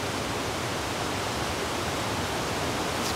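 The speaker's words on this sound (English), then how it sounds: "You just hear that wind." Strong wind blows outside a remote cabin on a misty day after rain, a steady broad rushing roar that stays loud and unbroken for about three seconds, with no talk.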